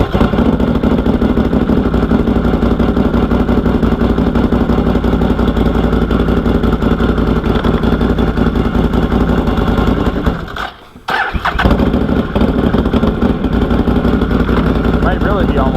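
Fuel-injected Can-Am Outlander ATV engine running at a steady, loud, close idle with mechanical clatter, dipping briefly near the end before picking back up, while a person talks over it.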